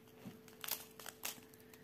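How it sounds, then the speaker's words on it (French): Faint crinkling and tearing rustles of a roll of adhesive tape being handled during diamond painting, a few short crisp bursts close by with no talk. "Je reprends mon scotch."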